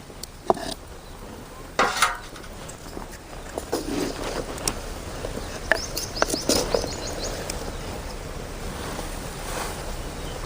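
A spoon clinks and scrapes against a cooking pot of drumstick and brinjal gravy, giving several irregular metallic taps over a steady background hiss.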